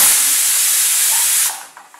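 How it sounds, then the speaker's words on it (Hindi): A pressure cooker whistle, cooking vegetable biryani on a gas stove, blasts out a loud, steady hiss of escaping steam for about a second and a half, then cuts off abruptly, leaving quiet kitchen clinks. "ये देखिए इसमें एक विसल आ चुकी है और मैंने गैस स्विच ऑफ कर दी है"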